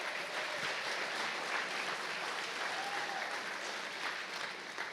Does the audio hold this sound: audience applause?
yes